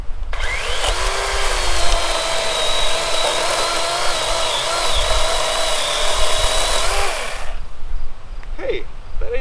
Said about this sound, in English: I gotta cut this limb off this white pine here.